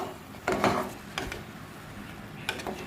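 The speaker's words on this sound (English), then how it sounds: "Then mix it." A spoon stirs jackfruit curry with coconut oil in a pan over a low flame, giving a few soft, separate scraping strokes against a quiet background.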